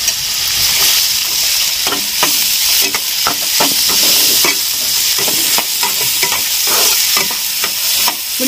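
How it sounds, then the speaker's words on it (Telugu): Onions frying in a pan for a Telugu tomato-onion curry, with a steady loud sizzle and repeated scraping strokes of a stirring spoon throughout, no voices. "ఉల్లిపాయలు మనం ఒక 2 నిమిషాలు ఇలా మగ్గనించుకోవాలి."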